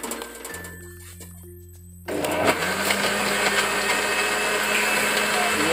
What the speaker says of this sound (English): you can even start the blender